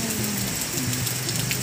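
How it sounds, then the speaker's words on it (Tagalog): Heavy rain pours steadily outside a home, a continuous dense hiss with faint patter and no voices over it. "So ayan, malakas ang ulan."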